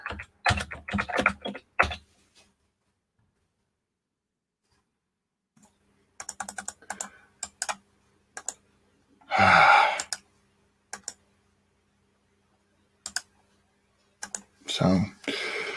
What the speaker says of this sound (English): I don't multitask well, so typing while talking, kind of hard for me.